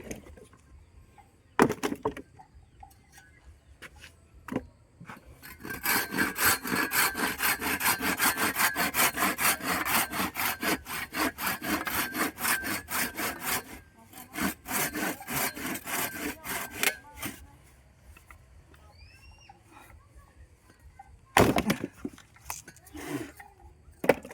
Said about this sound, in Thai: ก็ว่ามันเลื่อยอยู่